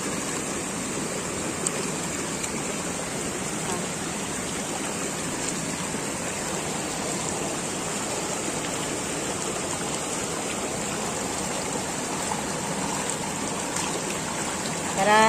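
Water runs steadily over freshly harvested taro plants as they are rinsed outdoors, a continuous close rushing splash that never pauses.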